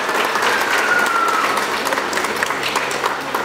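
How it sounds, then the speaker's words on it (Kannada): An audience at a pre-school annual day celebration applauds the children with steady, even clapping that fills the room at moderate volume for the whole stretch. "ಎಲ್ಲ ಮಕ್ಕಳಿಗೋಸ್ಕರ ಒಂದ್ಸರಿ ಜೋರಾದ ಚಪ್ಪಾಳೆ ಬರಬೇಕು"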